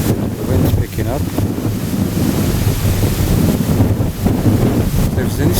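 Strong wind roars steadily across an open hill during a Halloween night walk, buffeting the microphone loudly and continuously with gusty rumbles.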